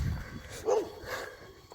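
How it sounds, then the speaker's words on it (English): A single dog bark rings out at a moderate distance, with a quieter yip following, over steady wind noise outdoors. "There's an annoying ass dog to the side of me."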